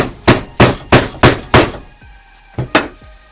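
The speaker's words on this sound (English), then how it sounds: "And I'm using a rubber mallet to do that because honestly I don't want to hit this with a metal hammer and risk denting it." A rubber mallet strikes a lathe spur drive into a wood board: five loud, evenly spaced whacks, a pause, then two more hits, close and alone.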